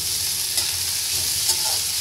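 Tomatoes and green chillies sauté in a hot pan for fried rice, giving a steady bright sizzle with a couple of soft stirring scrapes.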